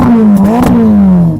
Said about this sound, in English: Oh yeah, let's have some revs.